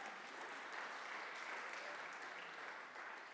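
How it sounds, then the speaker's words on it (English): A congregation applauding during a sermon, a steady, even round of many hands clapping that fills the room and holds at a constant level throughout. "That's worthy of applause"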